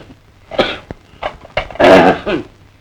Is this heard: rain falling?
no